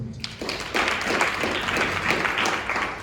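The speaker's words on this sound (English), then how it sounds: "let's give that a round of applause" Audience applause at a digital future summit closing session, starting with a few scattered claps that swell into a steady round of many hands clapping, moderately loud.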